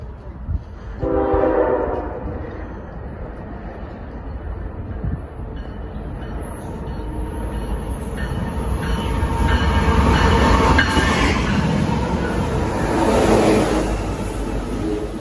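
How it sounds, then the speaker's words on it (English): A Norfolk Southern freight train, NS212, passes at a rail crossing in Union, New Jersey, with an auto rack up front and a trailing locomotive. A steady, loud rumble of wagons rolls throughout, and a horn sounds briefly near the start. "The next train that I saw was NS212 with an ace trailing, and it also had an auto rack in the front."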